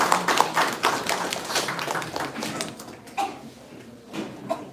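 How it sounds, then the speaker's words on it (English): A live audience gives a round of applause for a college administration at an academic event, scattered claps in the room that thin out and fade over a few seconds. "please give a big round of applause for the administration of Jane College Pasika"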